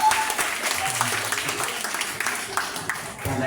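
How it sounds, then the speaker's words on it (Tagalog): A gathered audience bursts into loud, sustained applause, a dense, steady roar of many hands clapping, with a few voices faintly audible beneath it. "Lahat po ng mga lalong gumaganda pumalakpak ng malakas."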